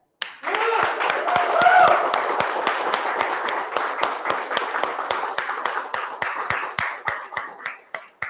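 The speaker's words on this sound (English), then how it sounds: "How about show your Josh with the biggest clap you can?" An audience at a meeting bursts into applause, many hands clapping at once and gradually thinning into separate claps before fading out.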